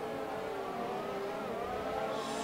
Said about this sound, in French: Superbe duel comme tout à l'heure en début de course avec les deux voitures côte à côte.